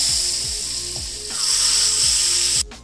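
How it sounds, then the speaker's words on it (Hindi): Hot oil tadka poured over cooked mixed moong and masoor dal in a village-style kitchen, giving a steady loud sizzle that runs for a few seconds and then cuts off abruptly. "तड़के को मैं दाल के ऊपर डाल"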